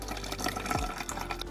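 Water poured into a red acrylic paint mixture, a soft continuous trickle and gurgle with a brief falling tone as it fills, close and quiet with no voice.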